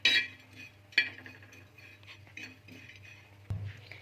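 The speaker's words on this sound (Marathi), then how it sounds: "आता आपण सोबत खोबरं भाजून घेणार आहोत याचा गोल्डन रंग येईन तोपर्यंत आपण भाजून घेणार आहोत" Grated coconut dry-roasts in a pan while a spoon scrapes and clinks against the metal, with a few sharper clinks near the start and middle over a low steady hum, quiet and close.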